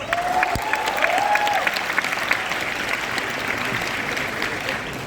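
Applause from the audience at the Indonesia Net Zero Summit 2023, full steady clapping throughout with a brief voice heard at the start.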